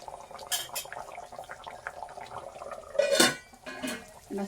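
Metal lid set down on a pot of fish curry with coconut milk, giving a clear clatter of metal on metal against a background of light kitchen clinks and gentle simmering.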